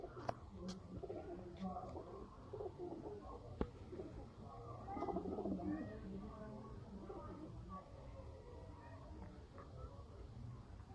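Pigeons kept for sale in Sialkot coo softly in low, rolling bursts, fairly faint, with a muffled voice mixed in.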